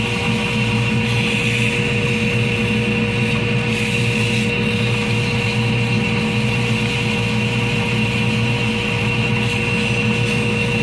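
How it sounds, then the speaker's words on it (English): Continuous hand sanding with Festool Granat 320-grit foam-backed sandpaper on a segmented pen blank, a steady close rubbing scratch over a constant machine hum. "this is a Festool granite sandpaper. It's regular sandpaper, but it's got a foam backing. This is 320 grit."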